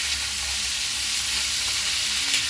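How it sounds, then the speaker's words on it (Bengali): Mixed vegetables frying in a pan give a loud, steady sizzle with soft stirring, close and continuous from start to finish. "এটাকেও কিছুক্ষণ ফ্রাই করার জন্য ছেড়ে দেবো"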